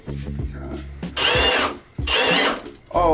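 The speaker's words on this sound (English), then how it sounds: "I just needed to drill a hole to allow the pipe to pass through to the top of the sled." A very large drill bit bores a hole through a sled so a pipe can pass through, two loud sustained bursts of power-drill whine and grinding, close by, separated by short pauses with low voices and handling noise.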